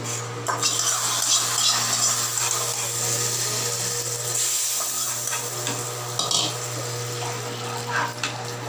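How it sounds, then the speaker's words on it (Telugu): A hot tempering of curry leaves is poured into ridge gourd dal and sizzles steadily, with faint stirring and clinks of utensils over a constant kitchen hum. "కరివేపాకు వేస్తాను. వేసి పప్పులోకి వేసేస్తాం."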